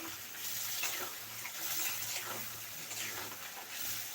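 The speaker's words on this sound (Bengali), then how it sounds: "দেখো ওই যে বাটির ধোয়া জলটাই দিয়ে দিচ্ছি" Rinse water from a bowl poured into potato curry cooking on a village stove, a steady close splashing pour lasting the whole moment with no talk over it.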